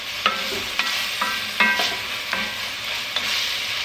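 Minced fresh garlic and vegetables fry in a pan under a steady sizzle, punctuated by several sharp clinks and scrapes of a utensil against the pan at irregular intervals.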